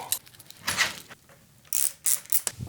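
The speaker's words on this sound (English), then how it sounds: "And now we're just gonna tighten down our handlebar." Handlebar of a Nami KLIMA Max 60V electric scooter being tightened down, giving a few close metallic ratcheting clicks and rasps in separate short bursts with quiet gaps between them.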